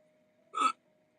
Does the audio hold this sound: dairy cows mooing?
no